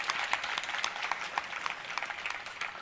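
Applause from an audience at a religious discourse, a dense, steady patter of many hands clapping at moderate distance, sustained for a few seconds without any clear voices.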